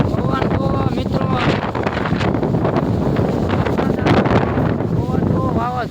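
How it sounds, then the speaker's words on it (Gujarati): Strong, stormy summer wind sweeps through Vavdi village during heavy rain, a steady roaring gust that buffets the microphone throughout while someone talks over it. "પવન જો વાવાઝોડા જેવું આવા ઉનાળામાં"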